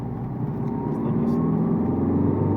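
A diesel Ford Fiesta 1.5 TDCi accelerates on the road, its engine droning steadily and building in a low rumble heard from inside the car.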